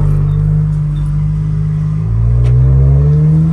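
A tuned car running on methanol revs hard for a launch, a loud, close, deep engine rumble that holds steady and then rises in pitch partway through, with no talk.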